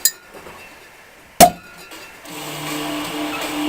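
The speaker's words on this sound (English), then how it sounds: "Grab the cork firmly and turn the bottle," A cork is twisted free from a bottle of Ommegang Abbey Ale, heard as one sharp glassy pop midway, followed by a soft fizzing hiss, close and otherwise quiet.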